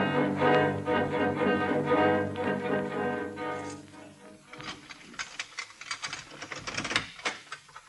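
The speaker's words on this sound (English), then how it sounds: "Get to work on the typewriter." Manual typewriter keys clatter in a quick, irregular burst of sharp clicks, preceded by a louder stretch of dense music and background sound in an old-time radio drama setting.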